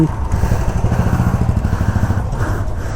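A Royal Enfield Goan Classic 350 motorcycle engine idles close by with a steady low, lumpy thump, loud and continuous for a few seconds.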